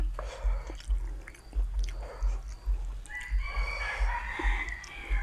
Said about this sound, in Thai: ปกติมันจะบ่ค่อยขันนะครับเวลาเที่ยง